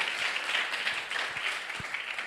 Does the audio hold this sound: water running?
no